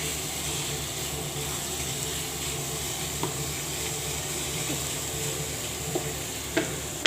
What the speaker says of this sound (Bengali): এই যে আমার শাক ভাজা হয়ে গেছে, দেখেন আপনারা।